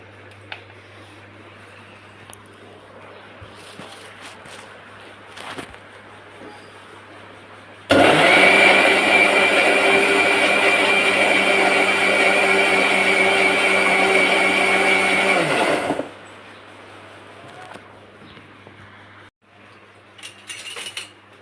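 An electric blender grinds cooled tomatoes into paste for homemade tomato sauce, a loud, steady whirring roar that starts abruptly, runs for about eight seconds and cuts off, with quiet before and after.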